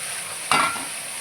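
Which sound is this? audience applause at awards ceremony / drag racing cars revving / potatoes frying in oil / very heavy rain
potatoes frying in oil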